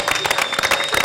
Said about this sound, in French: on peut applaudir Peggy